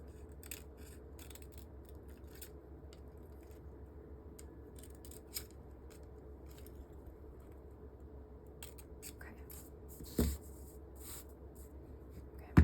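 Scissors cut fabric in quiet, faint snips spread irregularly across the clip, with a couple of sharper clicks near the end.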